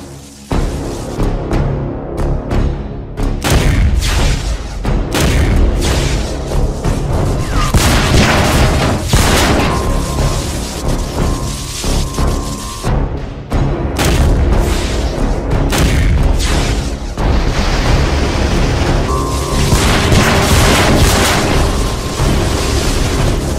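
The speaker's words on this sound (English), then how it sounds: "Activate the energy shot." An energy shot fired in a tank cartoon, a loud heavy boom with blasting bursts and crashing impacts that keep rumbling in dense succession.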